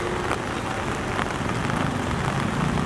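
Rain falling steadily during flooding in Kathmandu, heard as a continuous, fairly loud broadband wash of hiss and patter with no pauses and no voices.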